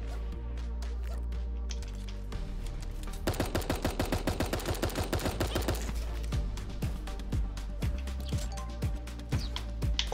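Rapid bursts of gunfire from the cartoon battle-royale game Super Animal Royale, a dense fast-firing stretch in the middle with scattered single shots around it, loud over steady game music.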